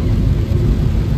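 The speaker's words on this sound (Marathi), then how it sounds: "पाऊस आणि नुसतो पाऊस." Heavy rain pounds a car driving the Mumbai-Goa highway near Mangaon, a dense, steady low roar of water that fills the whole moment without any break.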